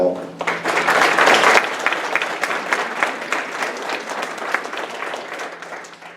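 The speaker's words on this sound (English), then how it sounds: "I'd like to give them a round of applause as well." Applause from attendees at a township annual town meeting, starting with a brief voice and building into steady, moderately loud clapping that thins gradually toward the end.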